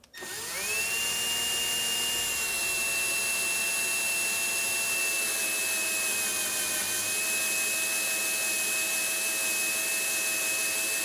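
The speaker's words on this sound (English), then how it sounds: "Just need to do a nice, steady, slow cut all the way through the neck." A lathe neck-cuts 338 Lapua brass, a loud steady whine that rises at the start and holds an even tone through a slow continuous cut, with no voices.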